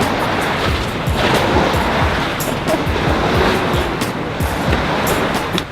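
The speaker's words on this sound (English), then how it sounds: "Look at the waves." Ocean waves roar in a dense, continuous wash of surf, loud and close, with wind buffeting throughout.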